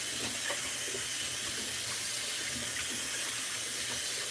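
Cold tap water runs steadily over potatoes being rinsed in a sink, a continuous close hiss and splash with faint knocks of the potatoes underneath.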